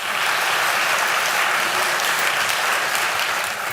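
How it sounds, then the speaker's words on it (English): Sustained applause from a convocation audience honoring the board chair, a dense, steady wash of clapping that holds loud and even for the whole stretch, with no voices on top. "Can we give a round of applause for Taja Hilton Phillips, the best board chair around,"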